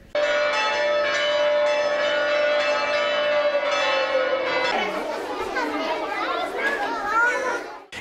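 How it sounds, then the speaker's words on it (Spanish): Cathedral bells ring out in Huari, Peru, marking the start of a national earthquake drill. A steady tolling tone holds for about five seconds, then gives way to loud children's voices and chatter. "El simulacro nacional de sismo inició en la ciudad de Huari a las 10 en punto de la mañana al repique de las campanas de la catedral"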